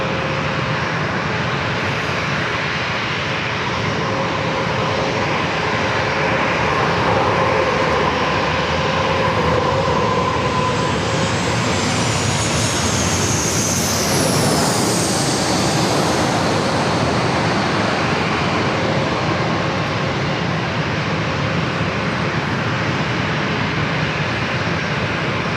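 Airbus A220-300 jet passing at San Diego airport, a sustained engine roar with a rising whine that peaks and sweeps downward as it goes by, then fades back into a steady rumble.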